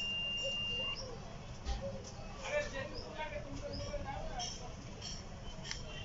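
During repair of an Axiom charger, a circuit tester gives a thin steady electronic beep for about a second at the start, followed by faint clicks and chirps over a constant noisy room hum.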